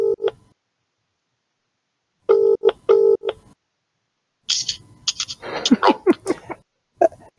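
Series of short DTMF keypad tones from a mobile phone on speakerphone, several distinct beeps in two bursts followed by a faint ringing or chirpy line noise, fairly close and clear with no talk over them.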